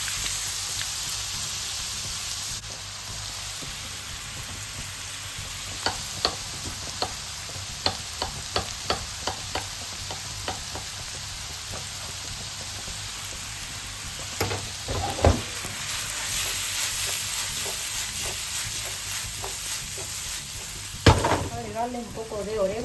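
Onion, bell pepper and garlic sautéing in hot oil in a pan, a quiet continuous sizzle with scattered stirring clicks and scrapes, a few louder knocks near the end.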